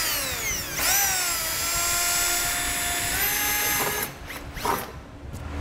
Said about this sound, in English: First, we're going to drill a pilot hole in the center.